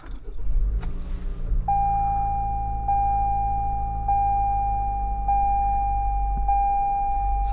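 A 2022 Toyota Corolla Cross L AWD starts up with a key in the ignition, followed by a steady engine hum and a clear repeating chime beeping at even intervals, indoors and close, with no speech.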